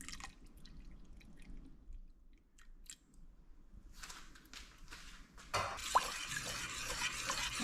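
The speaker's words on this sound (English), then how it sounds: "then we're going to add our coconut milk to it" Coconut milk is poured into bulgur wheat porridge as it cooks, with soft wet stirring, dripping and clicking sounds up close, ending in a louder, brighter splashing pour.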